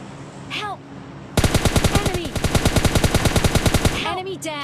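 A rapid burst of automatic gunfire in the mobile game PUBG Mobile Lite, loud and close, dozens of evenly spaced shots fired in quick succession for a few seconds with brief game sounds before and after.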